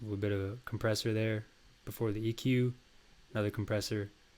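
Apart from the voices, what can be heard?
None of the usual background noises is heard.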